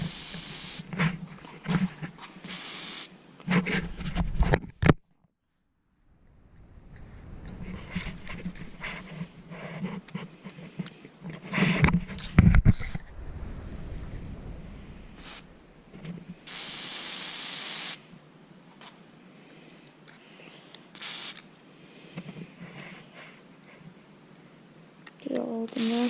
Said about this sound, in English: I'm going to spray them down with WD-40.